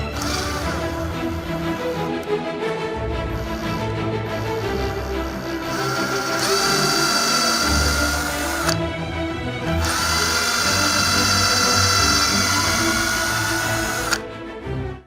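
A power drill bores thin guide holes for screws into wood while building a set of luggage-style drawers. A loud whirring runs throughout and rises into two sustained, higher-pitched drilling bursts before stopping abruptly.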